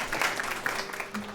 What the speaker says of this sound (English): we don't often get applause for a telephone guest